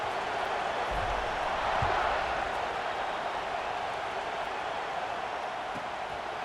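A stadium crowd in EA Sports College Football 26 roars as a steady, dense wash of cheering noise, fairly loud and unbroken.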